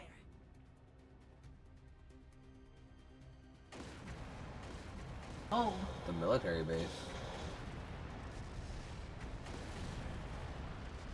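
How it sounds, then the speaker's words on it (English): Distant gunfire and artillery booms in a battle scene from the video game Trails Through Daybreak 2, low rumbling bursts rising after a quiet start, with a few sharper cracks mid-clip beneath a talking voice. "Confirming source of gunfire."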